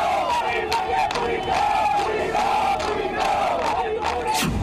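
Protesters packed into a Shimla street chant and shout demands to remove a mosque, a dense, sustained roar of many voices with rhythmic swells of shouting.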